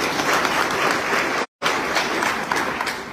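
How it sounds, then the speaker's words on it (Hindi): Applause from a crowd at a political rally, a dense, continuous burst of many hands clapping that breaks off briefly before carrying on just as loud. "उन सब के लिए तालियां जो है बजानी"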